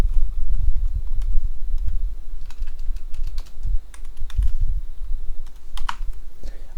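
Computer keyboard typing while coding, a continuous, close run of fast, uneven key clicks over a low background rumble.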